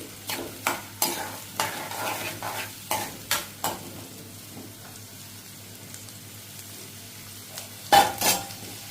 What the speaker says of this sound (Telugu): పచ్చిమిర్చి స్లైస్ చేసుకొని యాడ్ చేసుకోవాలి కొంచెం గోల్డెన్ ఫ్రై అయ్యేంత వరకు సాటే చేసుకోండి